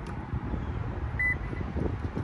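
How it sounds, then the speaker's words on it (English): A Subaru's keyless keypad gives a single short, clear beep over a low hum of background noise. "So now that it's beeping, we're going to click the unlock button right here, the Subaru logo."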